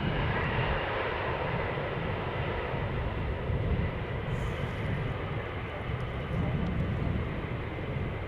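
A passenger airplane landing at Schiphol Airport, a steady broad engine roar held at an even level throughout, distant and unbroken, with no clear voices.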